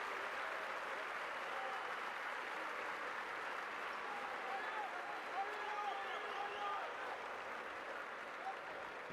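Home fans applaud at a Tenerife basketball game in an arena, a steady wash of clapping from a large crowd heard at a distance, with a commentator speaking over it.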